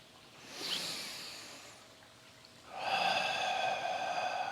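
A single forceful exhale in a dragon breath breathing exercise, sounding as a loud, sustained rushing breath close by, preceded by a softer breathy sigh earlier on.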